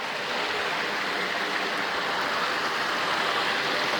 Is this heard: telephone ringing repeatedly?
no